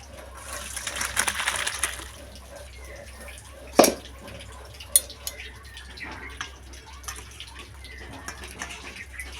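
Gravy poured from a vessel into a cooking dish of dhoka made with young jackfruit and chana dal; a soft, steady liquid rush lasts about two seconds, followed by a quiet kitchen with a couple of light knocks.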